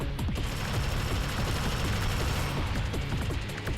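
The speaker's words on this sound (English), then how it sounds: "these guys should probably get gunned down pretty hard by my turret" Auto-targeting turret firing continuously in the video game Alien Swarm: Reactive Drop, a dense, unbroken rattle of rapid gunfire layered over loud game sound.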